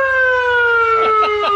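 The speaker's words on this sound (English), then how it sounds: "And we got a siren." A siren blares through a PA system fitted to a Polaris RZR Pro XP side-by-side, a loud, close, sustained wailing tone with a steady rhythmic pulse underneath.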